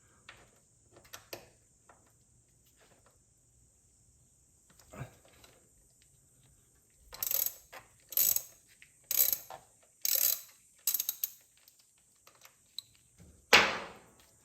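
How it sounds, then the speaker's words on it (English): A ratchet works loose an 8mm hex oil drain plug on a Porsche Cayman 981 GT4, giving several close bursts of rapid clicking, some faint early, then a steady series of short rasping strokes with quiet gaps. "First thing we need to work on removing is the drain plug"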